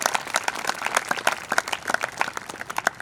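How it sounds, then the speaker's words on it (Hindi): Congregation at a Hindi-language Christian worship service applauding together, a dense, steady burst of many hands clapping at close range for about three seconds, with no voices over it. "ताली बजाकर प्रभु को धन्यवाद।"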